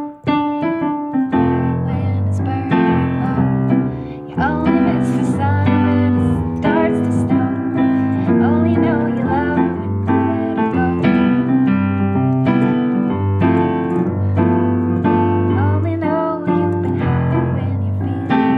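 A song arranged as swinging jazz on solo piano, with a walking bass line in the left hand and comping chords, played continuously at a steady, full level.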